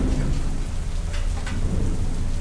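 Heavy rain pouring down steadily with deep rumbles of thunder underneath, a constant loud wash of drops and no voices.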